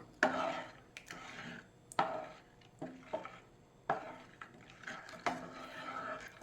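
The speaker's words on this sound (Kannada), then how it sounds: "ಇದು ತಿರುಗಿಸುತ್ತಾ ಇರಬೇಕು." A rice and coconut halbai mixture being stirred in a pan with a spoon, heard as repeated close scraping knocks at an irregular rhythm, quiet overall.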